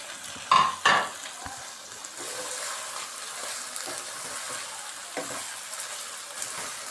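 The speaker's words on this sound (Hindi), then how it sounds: "इन सारी सब्जियों को हम चिकन के साथ अच्छे तरीके से फ्राई करेंगे" Vegetables and two small diced potatoes frying with chicken in a pan for a macaroni dish, giving a steady, close sizzle with two sharp stirring scrapes near the start and no talking.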